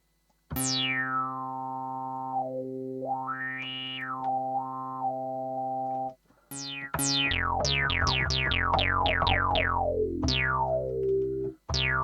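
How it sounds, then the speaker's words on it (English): Resonant AMYboard synthesizer tones with a whistling filter peak sweeping up and down as the resonance changes, then a rapid run of plucky, zappy notes; electronic, no voices. "So I've changed the resonance there."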